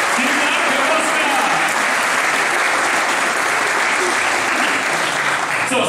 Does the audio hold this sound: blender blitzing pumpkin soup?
no